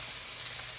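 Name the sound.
vegetables frying in an oiled pan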